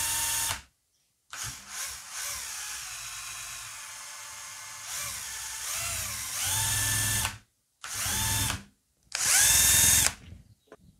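A power drill whirs in several bursts, spinning up and winding down with pitch changes, separated by short silences, powering a portable hand-driven generator; loud and close.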